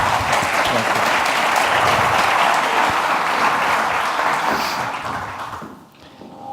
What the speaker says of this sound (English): Please give a round of applause to Wences and Reid.